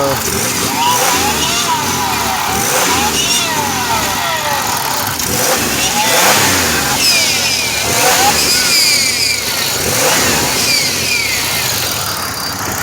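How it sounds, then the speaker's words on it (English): A running 1997 Pontiac Grand Prix GTP engine drones steadily with a repeating, uneven whine and rattle, loud and close throughout. "the car was making this weird noise"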